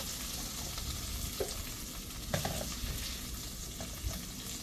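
Vegetable fajita mix sizzles in a hot pan, a steady soft hiss of frying with occasional faint stirring clinks and pops, fairly quiet and close with no talking.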